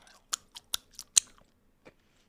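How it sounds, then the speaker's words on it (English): Several crisp, crunchy chewing bites close to the microphone, irregular and separated by quiet pauses, with one softer bite near the end. "Every person that hates chewing noises right now fucking hates me."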